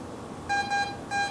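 Metal detector tone from an AT Max ringing up on a coin, heard as three short high-pitched electronic beeps in a steady pattern, close and fairly loud over quiet background.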